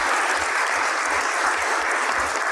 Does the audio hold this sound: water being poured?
no